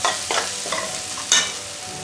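Onion and masala powder fry on a low flame in a pan, giving a close, moderate sizzle broken by several sharp scraping stirs of a spoon.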